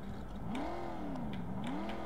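Simulated muscle car engine in the NR2003 racing game revved in neutral, a steady droning whine that climbs and falls in pitch as the revs swing up and down, fairly quiet and without talk.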